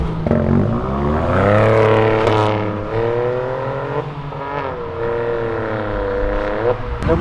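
A Honda Civic leaves a car event, its engine revving hard and climbing in pitch as it accelerates away, a loud close pass with a little talk in the background.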